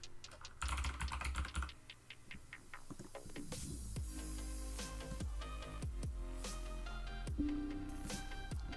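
Keys clatter on a computer keyboard as a command is entered into PowerShell on a Windows 11 machine, a steady run of close, fairly soft clicks with a few bursts, over a low background hum and no talking.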